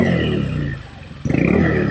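Honda ADV 150 scooter exhaust fitted with a dB killer, a steady muffled engine drone that dips briefly and then swells back louder, close by with no talk.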